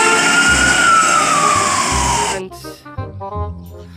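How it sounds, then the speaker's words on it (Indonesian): A small toy ambulance siren wails with a falling electronic tone, then switches to a bouncy jingle of beeping notes. "ambulans."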